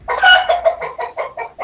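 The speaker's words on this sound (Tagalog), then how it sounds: "Wala, may manok o manok." A chicken clucks repeatedly in a rapid, rhythmic series of short calls, loud and close, with no talking.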